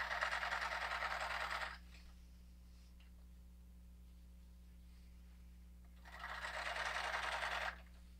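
An old sewing machine stitches a diaper seam in two loud, steady runs of rapid mechanical chatter, separated by a quiet pause with a low hum in the background.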